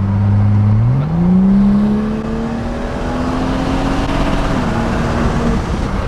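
A BMW M2 accelerates hard, its engine note climbing steadily through the revs, loud and close throughout.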